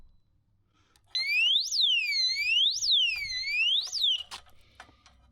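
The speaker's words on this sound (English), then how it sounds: "this is the lock that I bought that is gonna lock the disc, and also it's gonna ring the alarm in case someone moves the bike" A motorbike disc lock's built-in alarm sounds loud and close, a piercing electronic siren that sweeps up and down in repeated wails for about three seconds, then cuts off, leaving faint handling noise.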